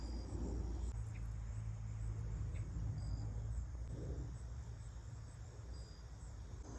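Crickets chirp steadily in the background outdoors in a garden, a soft high trill over a low rumble of distant traffic.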